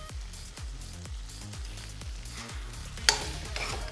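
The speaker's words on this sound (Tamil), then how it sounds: "ஒரு முறை நல்லா மிக்ஸ் பண்ணி விட்டுருணுங்க." Chicken liver chettinad is stirred in a hot pan with coriander, giving a regular series of scraping strokes over a steady sizzle, close and clear with no talk.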